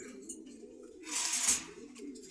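Pigeons coo softly at a pigeon market in Meradia bazar, Dhaka, with low, faint murmuring calls and a brief louder rustling burst midway.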